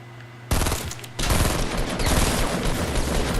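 Loud, rapid automatic gunfire in a multiplayer shooter video game, one short burst followed by sustained continuous fire, close and harsh with no talking.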